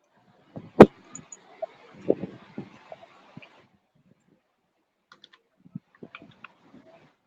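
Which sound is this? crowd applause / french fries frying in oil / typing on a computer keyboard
typing on a computer keyboard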